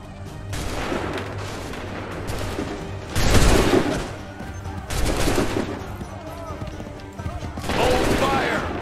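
Musket volleys crash out in Assassin's Creed 3, a broad rolling burst of massed gunfire followed by further ragged volleys several seconds apart, loud and close against a steady battle din.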